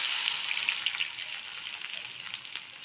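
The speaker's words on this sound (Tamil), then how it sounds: "இப்போ வெங்காயம் ஆட் பண்ணிக்கலாம்." Onions fry in hot oil with fenugreek for garlic kulambu, making a steady close sizzle with a faint hiss that eases slightly. No one talks.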